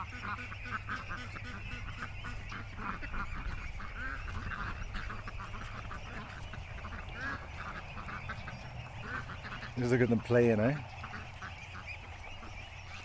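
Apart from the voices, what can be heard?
ducks in a duck pen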